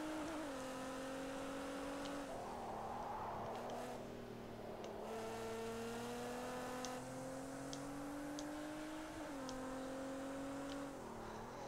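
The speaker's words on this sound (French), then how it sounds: "Écoutez-moi, c'est le bruit des moteurs." Nissan GT-R engines in the racing game Project Cars 2 drone steadily, rising and falling in pitch as the cars accelerate and shift, with faint ticking clicks over the constant engine whine.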